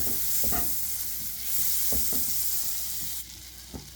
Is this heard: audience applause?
no